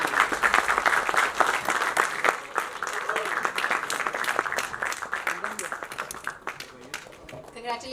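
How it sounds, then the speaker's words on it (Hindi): An audience applauds director Ankit Hans at a film trailer launch, loud sustained clapping with crowd noise that gradually thins and softens toward the end, with voices audible beneath. "Please जोरदार तालियां हो जाए अंकित हंस के लिए।"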